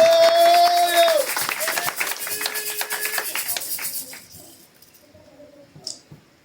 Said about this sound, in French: Est-ce que tu peux encore acclamer pour Jésus?